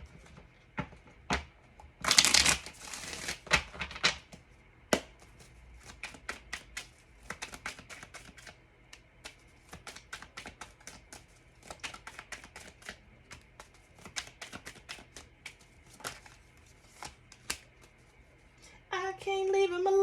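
Papery riffles and soft taps of tarot cards being shuffled, coming in repeated short bursts with a louder flurry early on, close by with no talking.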